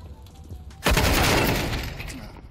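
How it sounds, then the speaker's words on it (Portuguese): Gunfire in the video game Counter-Strike 2 erupts suddenly after a quiet moment, a loud dense burst of shots that stays intense and slowly tapers over the following seconds. "Pra onde estão indo esses tiros, velho?"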